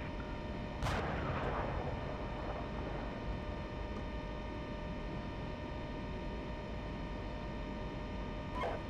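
Incoming fire in a tank combat video game: a sharp impact burst near the start, then a steady rumbling engine-and-noise bed with a faint second hit at the end.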